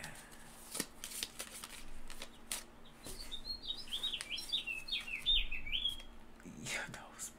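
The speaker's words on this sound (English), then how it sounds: "And I hear loud birds chirping out here." Birds chirp in quick, high twittering runs amid scattered clicks and rustling, with a faint low hum in the background.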